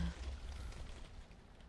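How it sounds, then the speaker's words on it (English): Steady rain hisses in the blocky Minecraft SkyFactory 4 world, a faint, even wash of falling drops that holds without pause for under two seconds. "Dude, it's raining, man"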